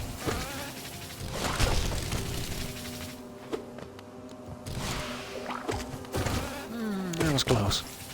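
Insect-like buzzing from bees in the video game Hollow Knight, swelling and fading in short bursts over game effects and a steady musical drone.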